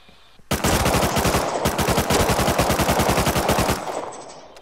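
Rapid automatic AK rifle fire in the video game Rust, a long loud sustained burst of evenly spaced shots lasting several seconds, then cutting off into a fading tail; no talk over it.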